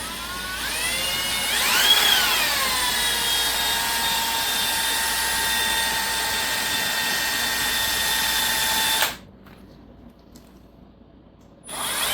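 A power drill whines at a steady high pitch drilling into metal for several seconds, revving up early on, then cuts out briefly before starting again.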